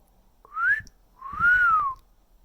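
A person whistles two clear tones, a short rising note followed by a longer arched one, close and fairly loud, with faint background noise between them and no talking.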